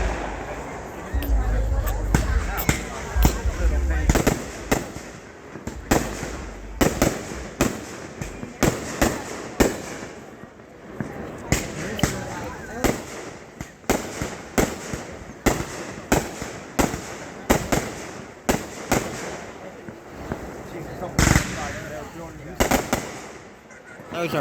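Fireworks show by a bridge at night, a long series of sharp booms and crackling bursts at irregular intervals, fairly loud and distant-to-mid range, with people chatting in the crowd between blasts.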